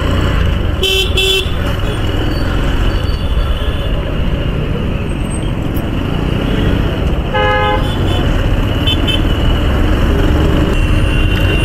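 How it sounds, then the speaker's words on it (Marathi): Busy road traffic near Mumbai Naka in Nashik roars steadily and loudly, with a short horn toot early on and a longer honk about two-thirds of the way through over the continuous engine noise. "ही बघा नाशिकची ट्रॅफिक दिवसेंदिवस वाढत चालली आहे"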